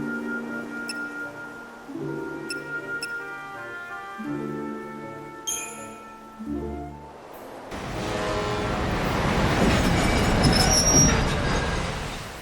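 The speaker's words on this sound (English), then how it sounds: "The train will leave shortly." A train departing in the game Lightning Returns: Final Fantasy XIII, with layered music and chimes first, then a loud, dense rush of wheels and squealing rail noise building and holding steady to the end.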